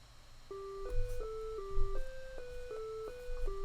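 Simple 8-bit chiptune background music from a homemade video game, a square-wave melody stepping through short even notes over low bass pulses, played at moderate volume with no voices.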